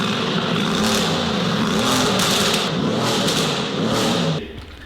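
A damaged Mercedes-AMG GLE63 S engine revs hard and loud with a throaty exhaust roar, sustained for several seconds before dropping off abruptly.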